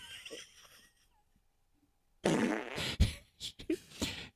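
A fart sounds in a sputtering sequence of loud, raspy bursts after a faint murmur and a brief quiet gap, the later bursts coming in short, uneven spurts.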